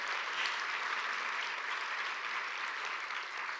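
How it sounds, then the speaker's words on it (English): Audience at a talk on Palestine clapping in a continuous, even wash of applause, soft and somewhat distant, sustained throughout with no speech. "You can clap for that"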